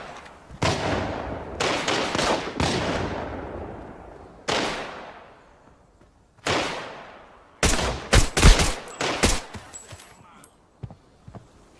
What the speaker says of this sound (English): Right, it's still shooting. So that means there is a player somewhere.